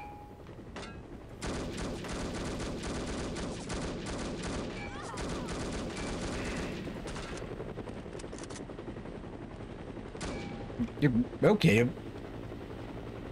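In the No One Lives Forever video game, a helicopter's rotor thrum drones under rapid bursts of machine-gun fire, joined by sharper louder shots toward the end; someone speaks briefly.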